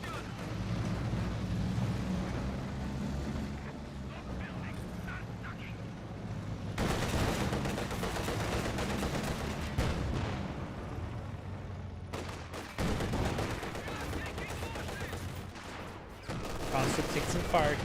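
Gunfire crackles steadily through a Company of Heroes 2 battle as Soviet conscripts come under fire, dense bursts of shots blending with the game's background din and occasional voices.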